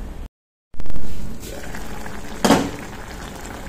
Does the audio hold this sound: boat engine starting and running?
no